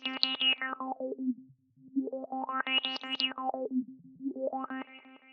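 A glitchy synth arpeggio with heavily cranked filter resonance sweeps steadily up and down in repeating waves, each run a stream of quick distorted, buzzy notes that brighten and darken, playing alone.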